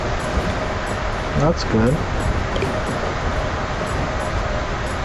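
A steady rumbling train runs in the Tiny Rails video game, with a brief chime-like tone partway through; a person speaks briefly over it.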